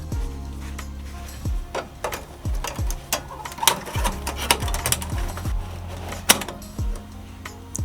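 A Ricoma MT-1501 embroidery machine works on a 6-panel structured snapback hat in 3D embroidery. It gives a close, steady mechanical hum with rapid clacking needle strikes and a few sharper knocks. No one speaks.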